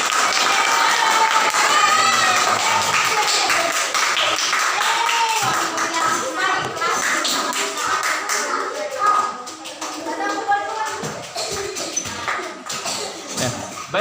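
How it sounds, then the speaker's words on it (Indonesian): Schoolchildren in a classroom clap for a group that has just presented, a dense round of applause with some cheering that fades into shuffling and chatter. "Tepuk tangan untuk kelompok 5."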